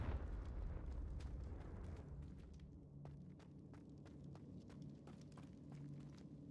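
A Confringo blasting spell from Hogwarts Legacy erupts in a deep, loud rumbling explosion that fades into a low throbbing hum, with faint footsteps and small pops over the tail.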